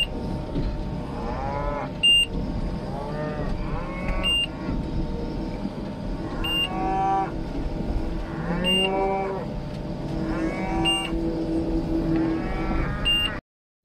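A herd of cows kept in open summer pasture, with bulls among them, lows repeatedly, several overlapping moos rising and falling one after another, fairly close and loud over a steady outdoor background.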